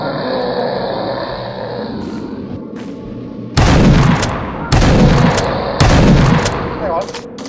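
Pistol and shotgun fire in a video game: three heavy, loud blasts spaced about a second apart, each followed by a short decay, after a few seconds of quieter game ambience.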